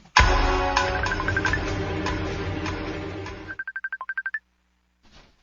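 A cellphone emits a burst of loud tone, then a quick run of short keypad beeps as a number is dialed, ending in silence.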